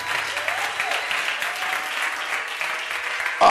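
A church congregation at a French-language worship service claps and cheers, sustained dense applause with a few faint voices rising through it before it cuts off abruptly.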